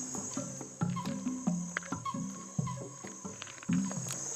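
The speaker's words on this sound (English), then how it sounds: "Frogs here." Frogs call in the Amazon jungle in a dense night chorus, with repeated croaks and chirps over a steady high insect drone, at a moderate distance and with no voices.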